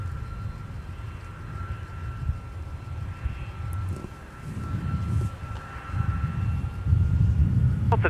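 Delta airliner going around at Minneapolis–St. Paul Airport, its engines a steady low roar that builds toward the end as the jet climbs away, with no talk over it.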